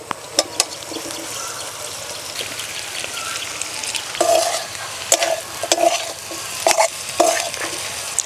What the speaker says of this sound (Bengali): ভেজে রাখা আলু ফুলকপি দিয়ে দেব।